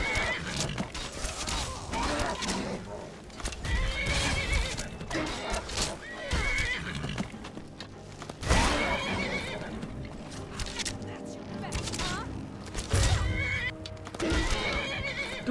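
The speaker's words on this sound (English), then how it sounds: "Do not hurt the horse!" Horse neighing in the virtual reality game Skyrim VR, a loud, close whinny over a busy backdrop of game sounds and hoofbeat-like clatter, with rising, shrill calls recurring through the scene.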